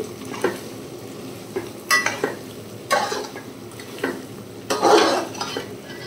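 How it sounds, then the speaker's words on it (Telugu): Ginger garlic paste frying in a pan for chicken pickle, a low continuous sizzle with several sharp scraping stirs of a spoon against the pan bottom at irregular intervals. "అల్లం వెల్లుల్లి పేస్ట్ వేసాక కలుపుతూ ఉండాలండి, ఎందుకంటే అడుగు మాడిపోతుంది"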